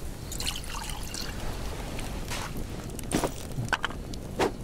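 Liquid poured from a big jug in The Last Plague: Blight trickles and splashes for a few seconds, with brief drips and a couple of bright droplet sounds near the end.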